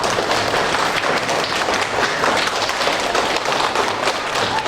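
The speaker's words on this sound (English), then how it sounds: "Let's give them a big round of applause." Sustained applause from a school audience at a Constitution Day and election assembly, a dense, steady wash of clapping that stays loud and even throughout, with no talking over it.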